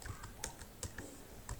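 Keys clack on a computer keyboard in quick, uneven taps, about a dozen strokes with brief pauses, close and clear with no voice over them.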